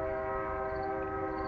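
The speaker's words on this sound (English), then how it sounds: "That's a train." A train horn holds a steady, loud, multi-tone chord throughout, with rumbling rail noise underneath as the train passes.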